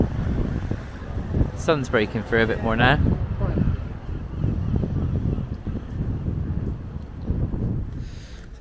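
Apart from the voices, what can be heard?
wind blowing at the beach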